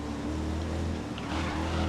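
Racing car engine in the driving game GRID, a steady low droning hum with a sustained tonal whine and rushing noise, moderately loud and unbroken, with no voices.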